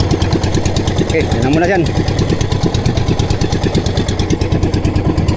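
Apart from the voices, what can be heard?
engine idling while warming up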